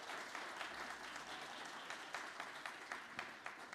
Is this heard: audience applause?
yes